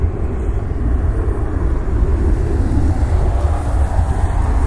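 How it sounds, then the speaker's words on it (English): A heavy commercial jet on approach to Cleveland airport gives a steady, loud low-frequency roar that holds evenly for the whole stretch, with no talk over it. "We have a heavy jet inbound."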